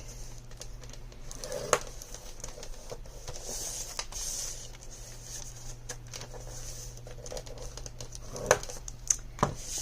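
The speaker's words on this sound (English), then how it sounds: "We're going to score it on 3 sides at 1/2 inch." Paper is scored with a tool on a scoreboard at half-inch intervals on three sides for a mini photo album, making faint, close scraping with a few sharp taps and clicks scattered through a quiet room.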